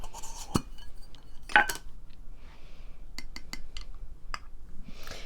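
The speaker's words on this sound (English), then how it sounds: "So now I'm going to open my containers." Metal soap containers being opened in a kitchen, with scattered light metallic clinks, taps and small scrapes at close range over a quiet background.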